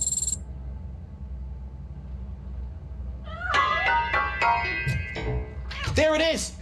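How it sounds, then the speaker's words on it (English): A cat hiding inside a piano in the video game RoboCop: Rogue City meows several times near the end, short wavering cries following a quiet stretch over a low ambient hum, with a voice also present. "That cat must be hiding inside."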